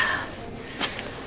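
A performer's voice imitates a hag sniffing the air, giving a couple of short, sharp nasal sniffs close to the microphone with a quiet pause between them.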